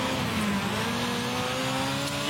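Car accelerating hard on a freshly worked track, a continuous loud engine whine climbing in pitch, close and steady throughout with no voices.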